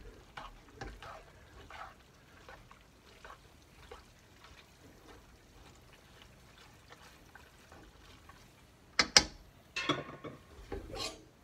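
Seafood carbonara pasta is stirred in a pan with a splash of starchy cooking water, soft faint clicks and wet scraping that turn into a few louder, sharper clatters near the end.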